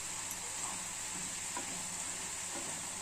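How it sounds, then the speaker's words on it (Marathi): Raw potato cooking in a pan gives a faint, steady sizzle with a few soft stirring touches, quiet and unbroken, with no voices. "बघा, छान असा कच्चा बटाटा शिजत आहे, शिजू द्यायचा।"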